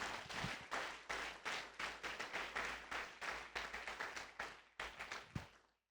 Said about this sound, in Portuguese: Quantos vão aplaudir esse Deus que está aqui?